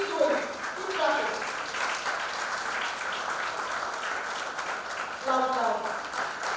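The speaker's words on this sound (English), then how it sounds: "keep going, keep clapping" Students at a convocation ceremony keep up continuous applause, a dense even clatter of many hands filling the hall, with a voice speaking over the clapping now and then.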